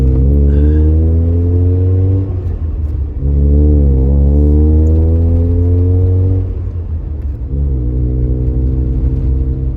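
Steady low engine rumble and exhaust drone from a first-generation Mazda RX-7 with a Racing Beat exhaust cruising slowly at 20 mph in third gear, around 1700 RPM, with gentle rises and dips in pitch; no voices.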